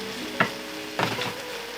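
Tempeh fries in a pan with soya sauce, making a low sizzle broken by two short bursts of louder spitting and stirring close by.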